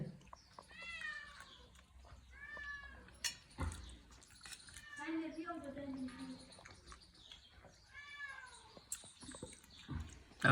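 A cat meows several times at intervals, drawn-out and fairly close, amid quiet household clatter and some background talk.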